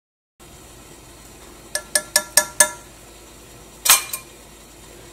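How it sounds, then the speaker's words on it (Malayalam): Spoon clinking against a glass bowl while Bru coffee powder is stirred into chocolate cake batter, five quick sharp taps in a row, then a pause and a louder double clink, close and otherwise quiet. "ഇനി കോഫി പൗഡറും ഇതിനകത്ത് നന്നായിട്ട് മിക്സ് ആവട്ടെ"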